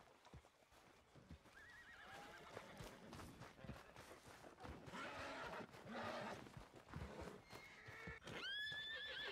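Horses in the video game Red Dead Redemption 2 whinny repeatedly while hooves clop steadily underneath, fairly loud and close, with a final sharp neigh near the end.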